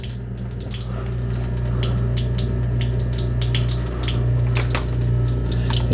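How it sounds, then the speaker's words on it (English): A Glisten-cleaned kitchen garbage disposal runs with tap water pouring into the sink, giving a steady low motor hum under continuous rushing, splashing water, close and fairly loud throughout. "I still have my garbage disposal on."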